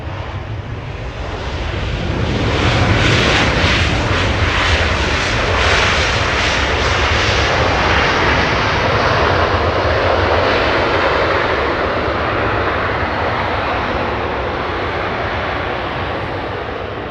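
A United Airlines jet from San Francisco arriving at Los Angeles International Airport roars in with a loud, broad engine rush that swells and holds steadily, heard outdoors with no talk.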